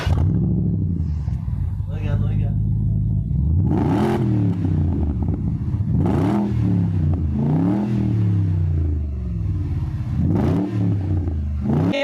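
A 4.4-litre twin-turbo V8 car engine revs repeatedly close to the exhaust, each blip rising and falling in a loud, regular rhythm about every two seconds over a steady idle rumble.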